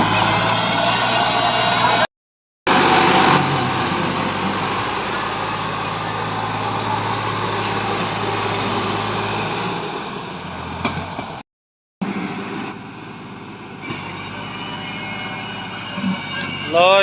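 A Massey Ferguson 260 tractor engine runs while the tractor is stuck with a trailer of bricks on soft ground, giving a loud, steady, close drone that cuts out briefly twice.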